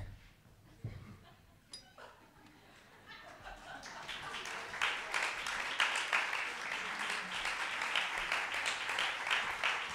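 Audience applause at a live session builds after a few quiet seconds with scattered voices, then swells into a dense, sustained clapping that carries on steadily to the end.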